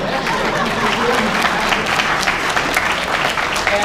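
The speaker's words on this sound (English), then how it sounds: "let's give a round of applause" Audience applause fills the room, steady dense clapping from a crowd at a competition awards introduction, loud and sustained throughout with no voice over it.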